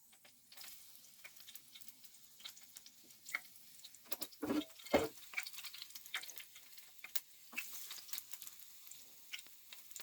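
Daisy fritters frying in a pan of oil give a quiet, steady crackle with scattered sharp pops and spits, with a louder flurry of sizzling partway through and no talking.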